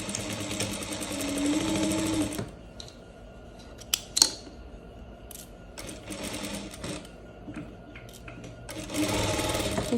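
A sewing machine stitches a halter-neck flared dress, running in a steady rapid whir that stops mid-clip with small clicks and handling noises, then starts again, while a person talks.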